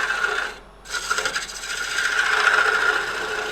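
A grinder rasps steadily against a wooden herb stripper pot, passing over the rim where holes are drilled; the close, continuous scraping drops out briefly near the start and then resumes with no talking.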